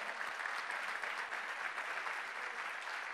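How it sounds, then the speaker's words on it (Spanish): A church congregation gives loud, sustained applause during a Spanish-language worship service, a dense, even wash of clapping from many hands that fills the room for the whole stretch without a break. "Dale un fuerte aplauso al Señor."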